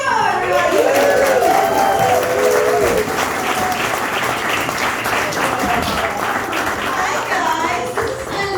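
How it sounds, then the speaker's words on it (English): Audience applause for a stand-up comedian at a comedy show, loud, dense clapping that fills the room throughout, with a few whoops early on before easing slightly. "Make some noise for Laura Lima, everybody."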